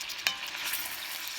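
Fat scraps render into lard in a pot, giving a steady bubbling sizzle with a single utensil knock as they are stirred.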